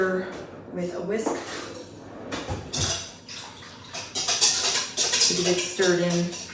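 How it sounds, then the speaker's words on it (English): A whisk clinks and scrapes against a bowl of yeast and water in quick, uneven bursts, close up, with a voice speaking intermittently underneath. "I'm going to give it a little stir with a whisk"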